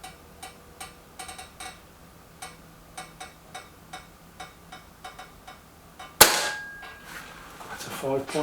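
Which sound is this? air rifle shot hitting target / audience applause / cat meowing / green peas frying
air rifle shot hitting target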